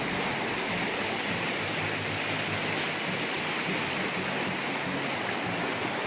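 The flooded Tinau river rushes past in a loud, unbroken roar of churning water, close by and filling the whole scene with no other sounds.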